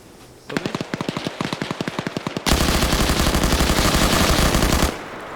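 Gunfire in a video game PvP match opens with a rapid string of distinct, evenly spaced shots, then breaks into a loud, unbroken automatic burst that runs for a couple of seconds before cutting off.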